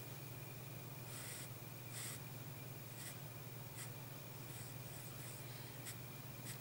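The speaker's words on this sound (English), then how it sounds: "It's quite hard to be precise with pastel pencils because they don't really sharpen to a point." Pastel pencil drawing on paper, a series of soft scratchy strokes in irregular bursts, faint and close over a steady low hum.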